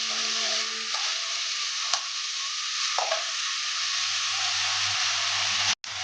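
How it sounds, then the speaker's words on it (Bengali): Chicken sautéing with chicken masala in a pan, a close continuous sizzle with scraping stirs and occasional clinks of a utensil, steady throughout with no voices. "চিকেন মশলা একটু দিয়ে দিচ্ছি। আবার একটু ভালো কষিয়ে নেব।"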